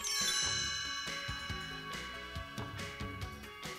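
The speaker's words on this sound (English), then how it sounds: "You'll know it's time to turn the page when you hear the chimes ring like this." Bright, shimmering chimes ring out together and sustain with a slowly fading tone, serving as the page-turn cue on a 1985 Goonies read-along book-and-record set; no voices are heard.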